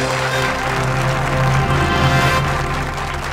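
A studio audience on a TV quiz show applauds steadily, a dense continuous wash of clapping that holds at an even level for a few seconds, with no voices over it.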